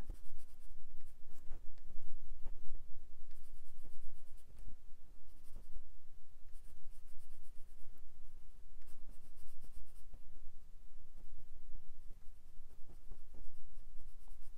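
A pencil sketches on paper while a comic artist draws the Scorpion villain, with quick scratchy strokes and short taps repeating in an uneven rhythm, close and fairly quiet, with no talk.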